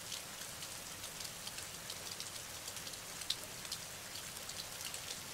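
Rain falls steadily as a soft, continuous hiss of countless drops pattering on a surface, even and unbroken throughout with no voices.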